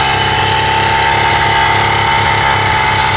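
A small Zeta motor on a motorized bicycle runs with a loud, rapid, buzzing rattle, close and steady throughout the short stretch, with no talking.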